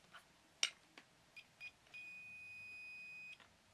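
A Di-Log Combi Volt 2 (DL 6790) tester with low batteries gives a faint, thin continuity beep, with a few short chirps followed by one steady tone lasting over a second in a quiet room.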